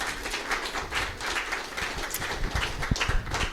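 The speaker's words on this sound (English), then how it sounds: "let's give our panelists a round of applause for coming" An audience applauds panelists after an evening panel on social media, a steady patter of clapping throughout at a modest level.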